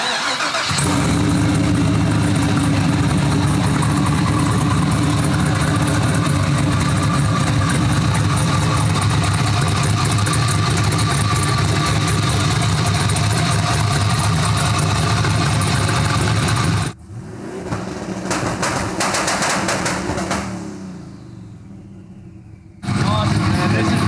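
A 1200 whp Hyundai Genesis coupe race car fires up and idles with a loud, rough, steady rumble close by, dipping briefly before surging again; people talk over the engine.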